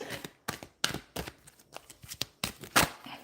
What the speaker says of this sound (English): I'm going to attempt to shuffle them this way now